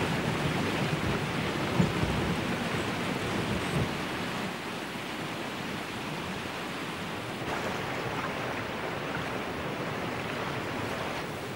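Heavy rain pours down in a steady, enveloping roar of broadband hiss that stays even and unbroken for the whole stretch. There is no voice.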